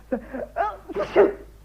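A single close sneeze from a person indoors, a short multi-part burst of breathy vocal noise lasting under two seconds.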